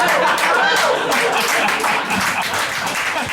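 Stand-up comedy audience claps and applauds for a comedian, a busy wash of clapping running throughout with a voice speaking over it.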